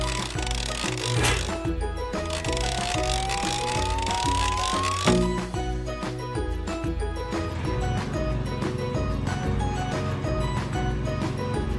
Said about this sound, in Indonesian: Sepertinya drummu sedang mengaduk semen